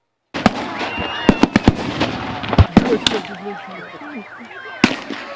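Sharp gunshots and bursts of explosions crack out irregularly at a military battle reenactment in a village, with background crowd voices and commotion between the blasts.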